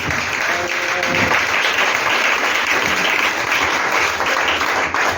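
A church congregation applauds in a dense, loud, continuous wash of clapping for about five seconds, with no pauses.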